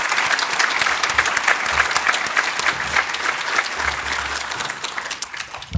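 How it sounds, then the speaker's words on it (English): Audience at the It Starts With Action Summit 2022 applauding steadily, a dense, sustained wash of clapping that holds loud for about six seconds without letting up. "can you join me in giving these people a round of applause?"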